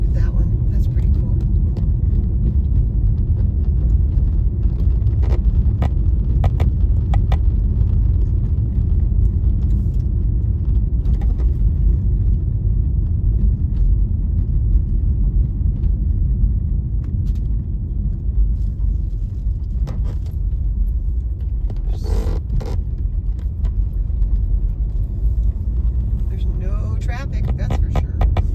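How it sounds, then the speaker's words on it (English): Road traffic rolls through a residential northside neighborhood of Laramie, Wyoming: a steady low engine and tire rumble lasting throughout, with a few passing vehicles swelling louder and people talking over it. "Traffic, that's for sure."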